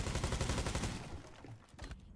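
Gunfire in a competitive team video game match: a rapid burst of loud, closely spaced shots rattles for about a second, then thins into scattered fainter pops.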